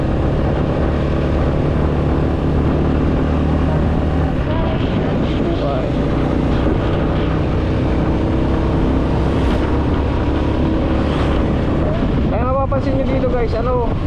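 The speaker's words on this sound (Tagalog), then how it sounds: "yung mga motor na ano, dumadaan yung mga big bike, yung magagandang motor" Big bike motorcycles roar past on the road to Gabyang Tunnel in Cavite, a loud, continuous engine drone mixed with heavy wind rush, while a person talks over it.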